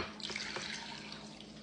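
Water poured into a saucepan holding sugar, a steady close splashing trickle lasting under two seconds with no voices.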